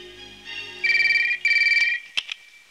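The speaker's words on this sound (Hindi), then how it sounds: "योगा सिंह थाना में फोन लगावा।" A telephone rings at a police station in two loud bursts of trilling electronic ringing, followed by a couple of short clicks as the receiver is handled, with no one speaking.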